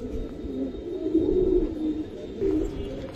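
Several Giribaz pigeons at a sale give low, throaty, rolling coos in repeated swells, near and fairly steady, with no one speaking.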